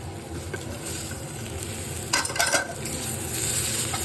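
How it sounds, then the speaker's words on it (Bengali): Aubergine frying with turmeric in a pan for a fish-in-mustard dish keeps up a low steady sizzle, broken midway by a short burst of stirring and scraping against the pan. "দিয়ে দিলাম হলুদ। এটাকে ভালো করে এখন আমি ভেজে নেব"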